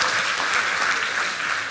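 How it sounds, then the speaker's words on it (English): A lecture audience breaks into brief, steady applause, a dense wash of clapping throughout. "we'll give her a round of applause, the last woman standing"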